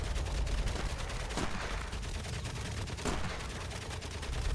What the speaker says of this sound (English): And those are rifle grenades